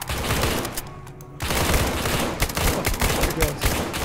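Sustained gunfire in the video game SCP: Pandemic, dense bursts of rapid shots with a brief lull near the start, loud and continuous, with shouting voices mixed in.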